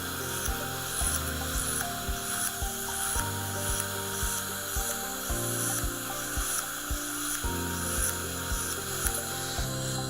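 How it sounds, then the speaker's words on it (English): Coarse and medium dental polishing discs shaping composite on teeth, a steady rotary whine shifting pitch, with rhythmic light scraping contacts, close and alone. "we'll use a coarse and medium disc to get the general shape and outline for them"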